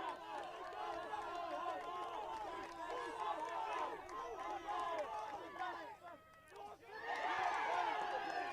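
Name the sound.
rugby match crowd cheering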